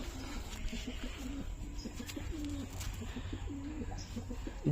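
Repeated low, throaty coos from a Giribaz or Madras pigeon in a steady rolling rhythm, close by, with soft background noise and no talking.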